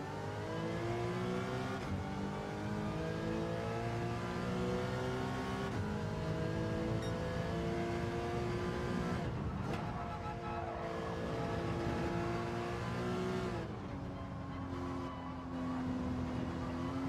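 Porsche race car engine in Gran Turismo 7 at the Nürburgring, droning steadily with rising and falling revs as gears shift, loud and continuous throughout with no talk.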